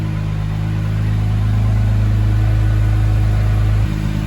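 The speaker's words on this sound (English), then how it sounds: "Let it warm up and then give it a couple revs for you guys to hear." A wrecked 2019 Acura NSX runs close up with a steady, humming engine drone that holds level, then dips suddenly to a slightly lower tone near the end, with no one speaking.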